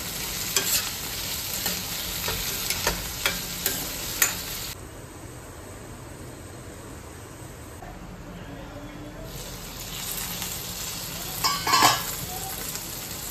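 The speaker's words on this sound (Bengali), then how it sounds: "পেঁয়াজটা হালকা ভেজে নিয়েছি। এবারে এর মধ্যে দিয়ে দিচ্ছি কেটে রাখা বেগুন।" Cut eggplant fries in a pan with lightly fried onions, giving a steady sizzle with repeated scraping stir strokes and clinks early on, then a quieter frying hiss.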